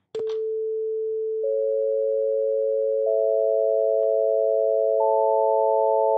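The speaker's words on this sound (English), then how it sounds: "Here we have an A440 again." A steady pure sine reference tone near A440, loud and continuous, with further sustained tones stacking on in steps to build a chord, preceded by a brief click at the start.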